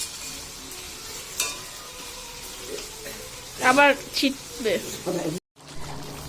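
A home-cooked desi country chicken curry stirs and fries in a pan with a steady low sizzle and a few clinking stirs, while people talk over it.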